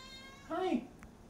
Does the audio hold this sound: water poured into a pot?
no